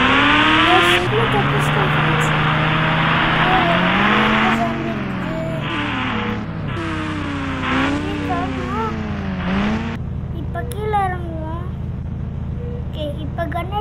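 Motorbike engine in a zombie video game, revving with rising and falling pitch sweeps and tire-like squeals, loud and continuous, cutting off abruptly near ten seconds before quieter game effects.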